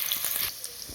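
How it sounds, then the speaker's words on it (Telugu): Onion and green chilli frying in a pan give a steady, close hiss and sizzle that softens slightly halfway through this short moment, with no voices. "ఉల్లిపాయ పచ్చిమిరపకాయ బాగా వేగాలండి."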